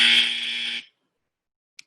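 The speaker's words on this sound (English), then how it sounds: "So the buzzer sound would be heard whenever a point of information is raised." A single loud electronic buzzer tone used to signal a raised point of information in an online parliamentary debate, sounding steadily for under a second and then cutting to silence, followed by a tiny click.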